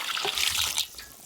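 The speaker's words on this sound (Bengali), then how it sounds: "এবার জল দিয়ে দেব" Water poured into a pot of chicken curry as it cooks, a short splashing gush lasting about a second that fades into a light trickle, close and moderately soft.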